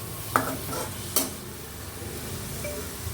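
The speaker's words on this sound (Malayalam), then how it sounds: "ഇനി ഈ ക്യാരറ്റ് ഒരു മൂന്ന് മിനിറ്റെങ്കിലും ലോ ഫ്ലെയിമിൽ വെച്ച് വഴറ്റിയെടുക്കണം" Carrot and cabbage fry on low flame in a pan for vegetable Maggi, a steady close sizzle with two distinct spatula scrapes and clinks near the start.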